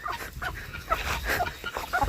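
A hen clucks in repeated short bursts close by at a rural Tamil home on a rainy day, with scattered bird calls and household noise around it.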